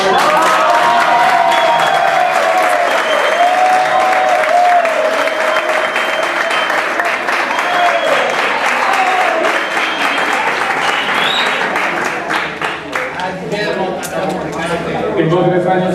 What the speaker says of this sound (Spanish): Latinoamérica brindarle un fuerte aplauso.